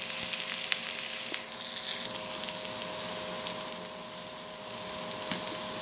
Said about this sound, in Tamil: நல்லா மீடியம் ஃப்ளேமில் வச்சு நல்லா வெண்டைக்காயை வதக்குங்க.